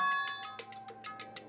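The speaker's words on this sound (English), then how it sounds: "Zagger, did you hear the doorbell too?" An electronic doorbell chime in the video game Dang Ol' Romper: Trigger Happy Havoc plays a quick run of bright, ringing tones, clear and close, with each note decaying briefly before the next.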